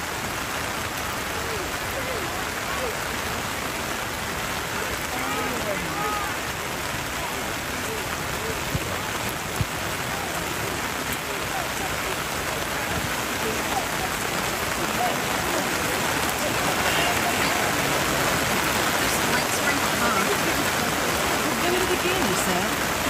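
Steady rain falls outdoors at a junior varsity ball game, a dense, even hiss of drops on surfaces throughout, with occasional voices of people talking nearby.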